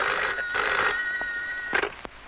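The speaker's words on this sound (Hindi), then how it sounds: "आपके लिए फोन सुरेश अखबार वाला।" A telephone rings in an office at the end of a duty shift, with steady electronic ringing tones repeating through most of the short span, then a few brief clunks as it is answered.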